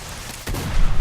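Gunfire in the video game S.T.A.L.K.E.R. Shadow of Chernobyl, with a heavy booming shot breaking in after a quieter stretch and loud, rumbling bursts continuing close and dense to the end.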